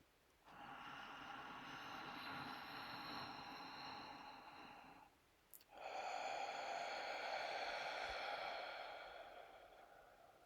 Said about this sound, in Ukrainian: Синхронно разом вдих.